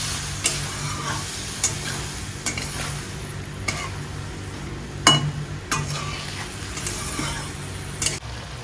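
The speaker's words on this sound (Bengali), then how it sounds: "এবার এর মধ্যে একটু জল দিয়ে দিই, জল দিয়ে ভালো করে কষাবো।" Spice paste sizzling and frying in a pan with added water for a Bengali fish curry with raw banana, steady low sizzle broken by periodic scrapes and clinks of a spoon stirring against the pan.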